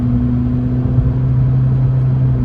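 Inside a 2020 Honda Civic Sport with a CVT accelerating in sport mode, a loud, steady low engine drone holds an even pitch under a constant whirring road noise.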